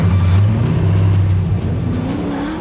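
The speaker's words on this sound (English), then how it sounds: "We're not here for the racing, but we're here doing a bit of drifting" Drift car engine revving hard at an outdoor drift event held at a greyhound racing stadium in Limerick, a loud, close, sustained throaty roar with shifting pitch and no talk.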